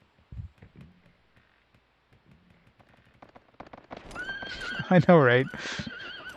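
Horses gallop in the PS2 role-playing game Suikoden III, with rapid hoofbeats and a loud whinny rising near the end. Quiet talking comes first.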